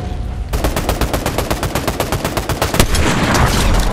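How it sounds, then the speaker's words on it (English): Gunfire in the Fortnite Battle Royale video game: a rapid, evenly spaced run of loud shots for about two seconds, ending in a final crack before a noisy wash of game sound. "A headshot sniped from midair."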